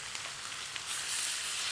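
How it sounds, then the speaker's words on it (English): Fish hits smoking-hot oil in a wok for a turmeric and dill dish, giving a steady, bright hissing sizzle that swells slightly louder partway through, close up and with no voices. "Make sure that oil is really smoking hot before you put any fish in."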